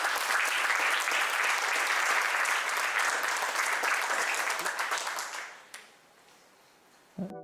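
Audience applause at a coding bootcamp demo day, a loud sustained wave of many hands clapping that fades out near the end, followed by a brief pause before a voice begins speaking.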